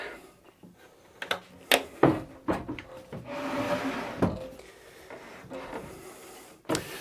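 Folding legs of a portable MFT-style workbench swinging in, a series of sharp wooden and metal clacks and rubbing knocks, close and isolated with no talk.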